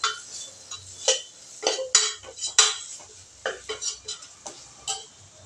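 A ladle clinks and scrapes in a kadai as masala powder is sautéed in oil for a mutton curry, giving scattered sharp metallic taps at close range in a quiet room.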